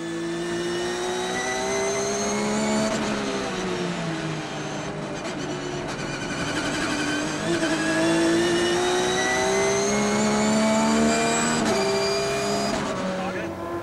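Race cars, from top prototypes to near-production entries, roar past at the Nürburgring 24-hour race, engines rising and falling in pitch as they close gaps and overtake, loud and continuous with a narrator talking over them.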